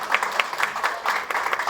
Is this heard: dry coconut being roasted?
no